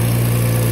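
Farm tractor engine running with a steady, loud low drone and a constant mechanical rumble, heard close and alone in a short burst.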